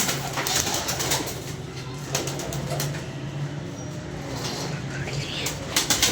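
German pigeons coo with low, repeated calls. Wing flaps and a few sharp rustles come through over a steady background hum, and a voice is heard at times.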